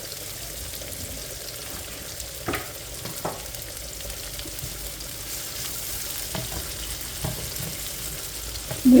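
Fish sizzles in hot oil in a home kitchen pan, a steady crackling fry heard up close with a few sharp clicks and spatters, and no talking.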